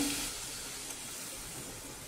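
Condensed milk mixture made from homemade fresh cream cooking in a hot pan over a low flame, giving a faint, steady soft hiss with no other sounds.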